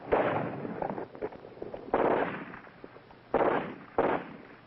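Several sharp gunshot cracks ring out during military combat training against a lone sniper, each a loud burst with a decaying rumble, spaced irregularly across the moment.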